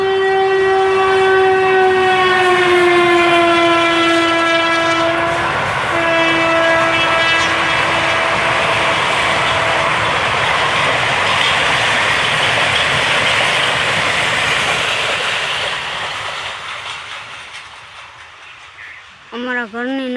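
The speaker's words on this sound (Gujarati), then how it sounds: "અમારા ઘરની નજીક જ છે એટલે તમને દરેક વ્લોગમાં ટ્રેનનો અવાજ સાંભળવા મળશે" A train passes close to a village house, sounding one long, loud, steady horn over a heavy rolling rumble that fades away as it moves off, with a brief voice at the very end.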